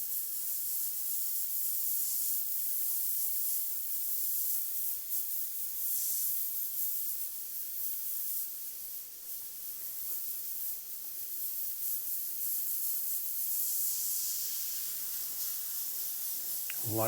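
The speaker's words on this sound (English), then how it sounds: "Same process, just opening up the paint, letting it flow, and then randomly moving the airbrush around." An airbrush spraying black and grey paint onto a saddlebag, giving a continuous close, bright hiss that stays even for the full stretch with slight swells as the paint flow is opened and the brush moves.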